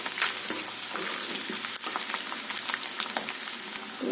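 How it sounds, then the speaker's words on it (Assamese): Ginger and garlic sizzle and fry in hot oil over a medium flame, a steady close crackling hiss with scattered pops and occasional stirring scrapes, with no talking. "অলপ সময়ৰ কাৰণে আদা নহৰুখিনি ভাজি মই দি দিছোঁ"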